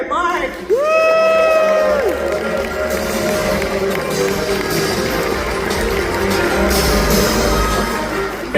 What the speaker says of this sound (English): Let's give a big round of applause to the VP and Park Manager for Six Flags Over Texas